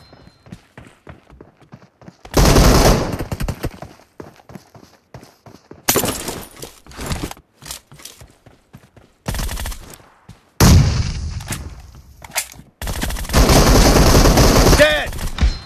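Loud, close gunfire in the shooter game PUBG, several sharp volleys of rapid shots separated by quieter stretches with footsteps and light voice chat.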